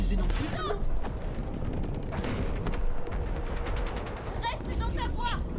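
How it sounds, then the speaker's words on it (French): A rocket launcher firing in the video game Split Fiction on Nintendo Switch 2, heard as loud, dense booming blasts and rumbling game noise that continue throughout, with voices talking faintly under the action. "T'avais ce lance-roquette avec toi depuis le début?"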